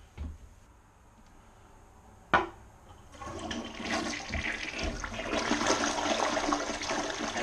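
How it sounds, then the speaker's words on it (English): A Gerber toilet freshly set in a bed of plaster flushes with a sharp click of the handle, then a strong rushing swirl of water that builds and keeps gushing steadily, close and alone. "that, my folks, is a Gerber flush"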